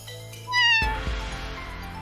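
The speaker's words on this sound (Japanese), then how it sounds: "やっぱり猫！" A single clear cat meow from the video game BlazBlue Centralfiction rises and falls, followed by a soft musical chime, with no talking.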